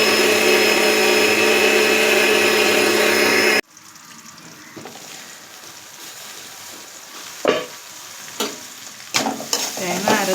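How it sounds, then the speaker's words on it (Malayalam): A mixer grinder grinds grated coconut in its jar with a loud, steady whir that cuts off abruptly after a few seconds, followed by quieter clattering and handling noises in a home kitchen. "നമുക്കത് മിക്സിയുടെ ജാറിനകത്തിട്ട് നല്ലതായിട്ട് അരയ്ക്കാം."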